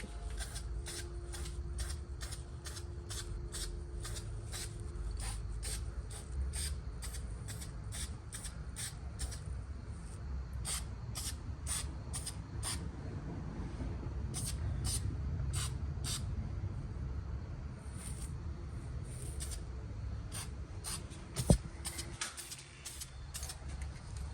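Repeated short bursts of aerosol spray paint on brake calipers, a quick rhythmic series of hisses over a steady low background hum, with one sharp knock near the end.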